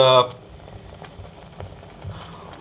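Gentle sizzling and bubbling of onion frying in a pan, low and steady, with a brief sharp sound at the very start.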